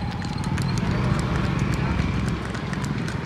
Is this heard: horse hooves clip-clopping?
yes